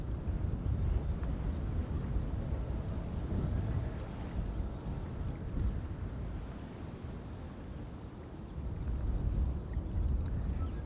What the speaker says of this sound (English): 2 Embraer 175s, this is the first one